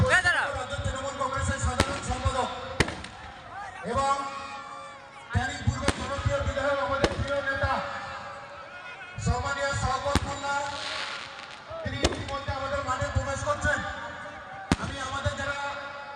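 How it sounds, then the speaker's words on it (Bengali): Firecrackers burst at a village MLA Cup football match celebration, sharp loud cracks and bangs recurring every second or two amid a noisy crowd, with voices and shouting throughout. "এগুলো বোম ফাটছে বাজ ফাটছে বাজ ফাটাগুলো দেখুন"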